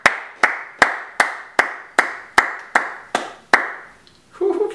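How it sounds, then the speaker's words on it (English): A single person claps alone in about ten evenly spaced, sharp, close claps, followed by a short faint rustle. "Who came up with this whole clapping thing? It's so weird when you're doing it on your own"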